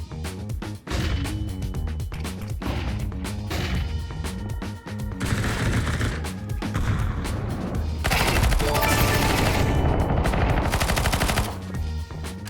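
A PP-Bison submachine gun in Counter-Strike 2 fires loud, dense bursts of rapid automatic shots that run on almost without a break, heard up close with no talk.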